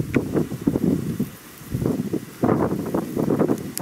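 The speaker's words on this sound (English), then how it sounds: "that wind is whipping right now" Strong wind gusts buffet the microphone outdoors in the Montana backcountry during an archery mule deer hunt, coming in loud rumbling surges with a brief lull in the middle.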